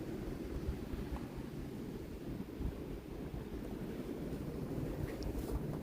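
Steady wind roars and buffets outdoors in a cold snowstorm, a continuous low rushing noise with no voices.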